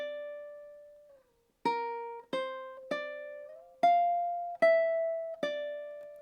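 Ukulele picking a single measure of a melody, about seven clear plucked notes in a steady rhythm after one opening ringing tone, close and solo with no talking.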